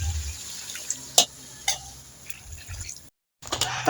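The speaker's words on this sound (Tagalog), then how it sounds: "Tapos lagay po natin ng konting tubig." A little water goes into a pan of pinakbet cooking with string beans and bitter melon, giving quiet scattered splashes and drips over low kitchen background, with a brief silent gap near the end.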